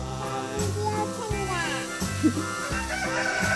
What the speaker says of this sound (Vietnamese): con gà trống gáy đấy